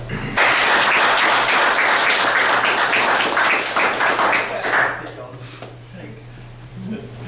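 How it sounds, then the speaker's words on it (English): An audience in a briefing room claps loudly for a few seconds, then the applause fades into scattered claps and low voices. "let's give them a round of applause"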